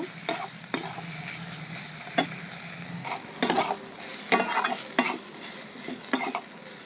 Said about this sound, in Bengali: এখন এই মশলাটা দিয়ে দেব মশলাটা দিয়েও আমি অল্প একটু নাড়াচাড়া করব